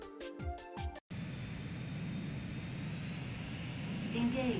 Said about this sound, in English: Now let's use this super plane.